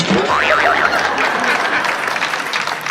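An audience at a comedic Hindi poetry recital claps in a dense wash of applause. It starts loud and thins slightly toward the end, with a few playful whoops and laughter mixed in.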